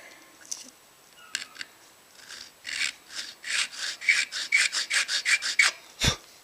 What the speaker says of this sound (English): Nice things about this file is I can lay the line, or I can lay it right on the line, and roll up and cut